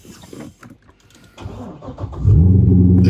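A 2006 C6 Corvette engine fitted with a Billy Boat Bullet exhaust cranks and fires up, settling into a loud, deep, rumbling idle close by after some quieter handling noises.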